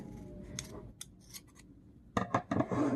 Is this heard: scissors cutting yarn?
yes